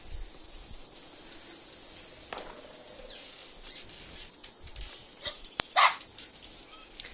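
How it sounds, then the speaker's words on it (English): A dog barking agitatedly indoors, a few faint, scattered yelps and barks rising briefly near the end over low background noise. "my dog's having a conniption"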